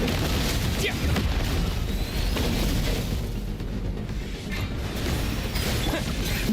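Repeated booming blasts from bombs in Genshin Impact, dense and loud throughout amid game noise and battle sounds, with a voice speaking over the action.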